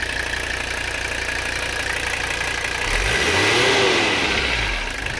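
A Mercedes 300CD diesel engine runs at a steady idle nearby, then a brief rise in revs swells and falls back to idle.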